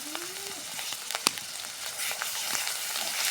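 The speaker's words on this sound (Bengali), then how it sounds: "এবার সুন্দর করে আমরা এটা কষে নেব।" Spices and dried chili powder sautéing in a pan, a close, steady sizzle with a sharp utensil clink and light stirring scrapes.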